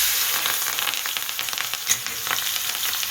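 Green chillies sizzling in hot oil with cumin, asafoetida and ginger for a Gujarati green onion dish, a steady close crackling fry with scattered sharper pops.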